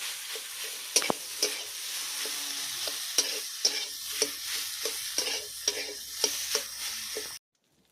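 Potatoes with turmeric and chili powder stirred in a hot pan, a steady soft sizzle broken by rhythmic spatula scrapes and taps, close and alone, ending abruptly in silence.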